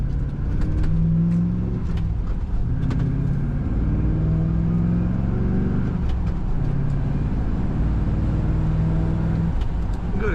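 A 2005 Chevrolet SSR with a six-speed manual gearbox pulls away on the road, its engine note climbing and easing through the gears in a continuous, moderately loud drone heard from inside the cab.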